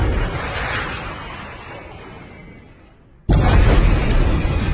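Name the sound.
bomb exploding, effect in a film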